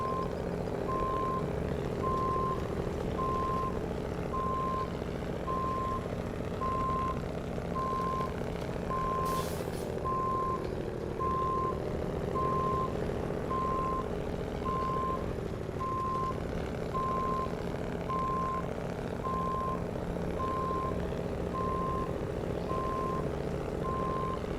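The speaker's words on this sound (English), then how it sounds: "That's why I decided I was going to back up this path backwards" Steady electronic reversing beeps from a heavy truck in the off-road driving game Snowrunner, repeating continuously over a loud, constant diesel engine rumble as it backs up a path for about twenty-five seconds.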